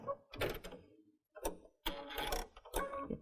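A sewing machine stitches a diagonal seam joining quilt binding pieces, with short mechanical bursts of rapid whirring and clatter broken by brief pauses, close and fairly quiet.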